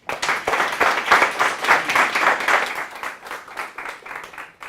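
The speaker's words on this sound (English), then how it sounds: "let's give Brian Frankel a Golden Eagle round of applause" A room full of people gives a warm round of applause for a Cal State Northridge graduate guest speaker, dense clapping sustained for several seconds and tapering slightly at the end, with no voices over it.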